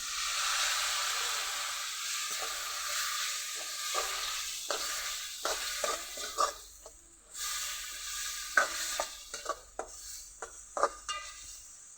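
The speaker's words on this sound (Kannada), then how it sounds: "ಒಂದು ಸ್ವಲ್ಪ ನೀರು ಹಾಕೋತಾ ಇದ್ದೀನಿ" Intermittent sizzling and hissing as water is added to a hot pan while cooking green pigeon pea stir-fry, with bursts of spitting and a few clinks of utensils, no talking.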